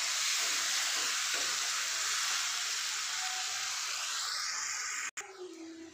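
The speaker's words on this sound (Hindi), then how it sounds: "मसाले को 2 से 3 मिनट तक अच्छे से ऑयल छोड़ने तक हमको भूनना है।" Masala spices frying in hot oil for an arbi curry, giving a steady, loud broadband sizzle that holds for about five seconds before a sudden cut and a quieter bubbling hiss.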